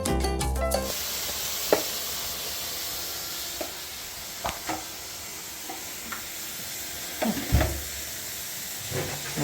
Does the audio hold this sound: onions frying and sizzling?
yes